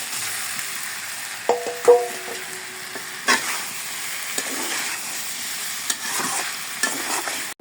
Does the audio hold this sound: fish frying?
yes